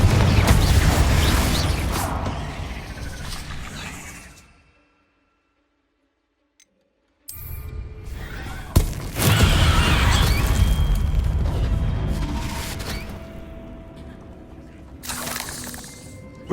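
Spell explosions in the Hogwarts Legacy game on PS5: loud rumbling blasts and crackling debris, a sudden drop to near silence, then a sharp boom followed by a long roaring, shattering tail and another burst near the end.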